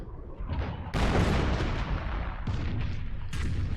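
A 25-pounder gun fires on a mortar in a war video game, heavy booming blasts landing in quick succession with loud sharp onsets and rumbling tails, alone without talk.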